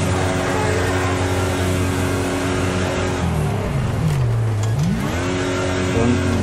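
A car in the demolition racing game Wreckfest reverses, its engine droning steadily near and loud, then sagging in pitch and climbing again as it shifts direction, with no talk over it.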